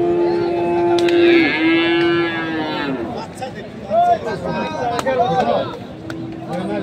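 At a cattle market, a cow lets out a long, loud, close moo while people talk nearby, followed by shorter animal calls and ongoing chatter.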